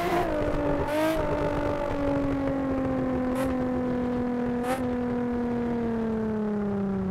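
A Nissan 350Z engine in the Assetto Corsa racing game, drifting: a loud, steady, sustained engine drone whose pitch sags slowly, with brief tire or exhaust bursts, no voices.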